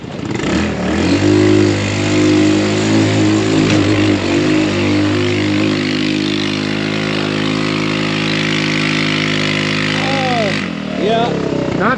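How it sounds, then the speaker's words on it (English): A go-kart motor revs with a slipping clutch on the Hells Revenge off-road trail, producing a loud, close, steady engine drone that holds for about ten seconds before dropping off at the end. "Like the motor's revving,"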